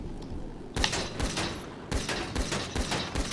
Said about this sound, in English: And the vintage pistol.